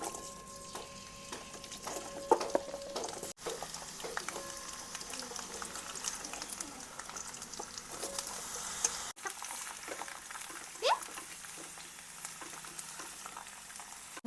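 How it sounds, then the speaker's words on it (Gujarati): Kantola (spiny gourd) fries in hot oil with a soft, steady crackling sizzle, faint and close, broken by occasional stirring clicks and scrapes, with no talking. "પહેલાં તો આપણે કંટોલા ખાલી તેલમાં શેડવાના છે"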